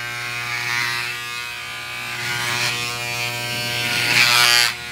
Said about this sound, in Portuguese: E agora o Isaac já tá passando a máquina, mulher, ó.